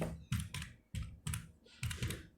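Fingers type in MS Word on a computer keyboard, producing clustered clacks in several quick bursts separated by short pauses, close and clear with no talking.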